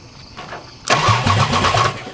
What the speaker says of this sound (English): Now let's see if I crank this,